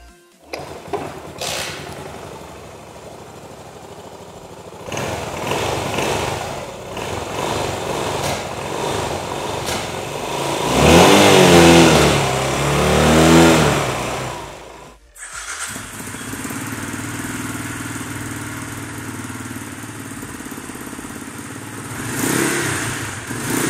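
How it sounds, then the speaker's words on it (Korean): Two air-cooled big single-cylinder motorcycle engines, a Yamaha SR400 and a Royal Enfield Interceptor-type Imperiale 400, idle with a steady low thumping exhaust, the second joining partway through, loud and close, no talking. "두 차량의 아이들링 상태의 진동과 배기음을 한번 느껴볼까요?"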